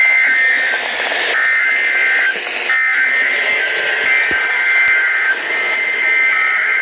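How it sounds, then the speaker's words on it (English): A loud, steady electronic warning tone holds a shrill pitch, dipping briefly a couple of times with faint crackles beneath. "The warning alarm tone will be activated for hazardous conditions"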